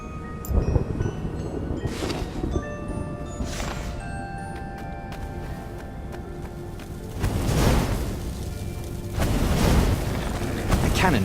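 Deep booming video game cannon blasts go off several times in a row, loud and rumbling, with a noisy rush of sound filling the gaps between them.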